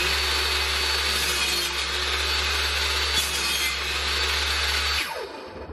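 A table circular saw, recently fixed after tripping fuses, cuts through wood in one continuous, loud whining run over a low motor hum, then winds down near the end.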